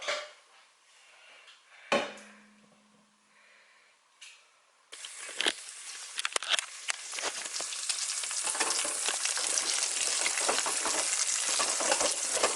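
Sun-dried tomatoes cut into small pieces hit hot oil in a noodle pot and break into a loud, dense, steady sizzle after a few quiet knocks and clinks of the pan.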